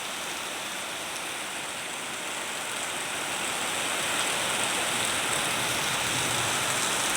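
Heavy rain pours steadily at a market yard in Jetpur, a dense, roaring hiss that swells slightly louder toward the end, with no voices.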